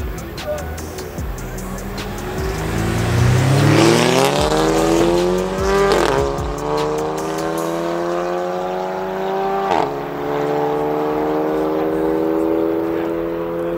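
Drag race launch between a Polo GTI and a Fiesta ST at Nasrec: loud engines rev up and pull away through rising gear sweeps, with a tyre squeal and gear changes as the cars accelerate off the line.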